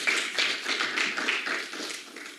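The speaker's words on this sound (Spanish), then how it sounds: "Aplausos" An audience at a talk on feminist history breaks into applause, a dense, steady patter of many hands clapping that holds for a couple of seconds and then gradually thins.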